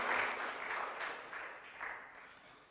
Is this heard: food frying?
no